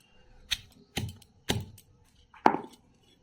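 The tip of a banana stem is crushed and pounded for Bengali chakli pitha, giving four sharp, evenly spaced thuds, close and distinct, with quiet gaps between.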